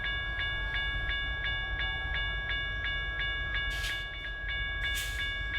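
A CN all-rail iron ore freight train in northern Wisconsin, wheels clicking over rail joints in a steady repeating rhythm above a deep continuous rumble, with a couple of brief hissing bursts near the end.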